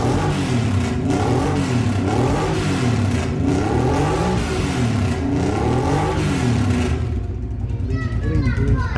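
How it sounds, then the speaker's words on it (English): An old Honda Transalp V-twin motorcycle fitted with an aftermarket exhaust revs up and down repeatedly in rising and falling sweeps, loud and close, then settles toward idle near the end. "we also tried one of the exhausts on an old Honda Transalp with a V-twin"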